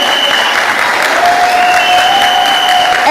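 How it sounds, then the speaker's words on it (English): A primary school quiz audience gives a contestant a round of applause: loud, sustained clapping from many hands filling the room for about three seconds, with a faint whine of microphone feedback running underneath. "Let's give him a round of applause."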